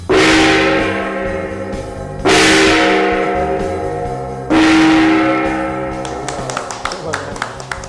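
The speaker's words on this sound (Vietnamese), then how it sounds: "gõ cái cồng chiêng này 3 tiếng." A gong at a Harley-Davidson dealership is struck three times, each loud, shimmering hit ringing out and decaying before the next, with light clatter after the last.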